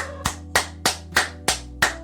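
One person claps six sharp, evenly spaced hand claps at a steady moderate tempo, close and distinct, each with a brief ringing decay over a quiet background.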